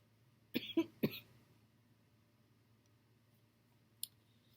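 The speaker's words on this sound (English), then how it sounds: "all the talking would make me start coughing." A few quick coughs close by in a quiet room, three short bursts in a row, followed by a small click a few seconds later.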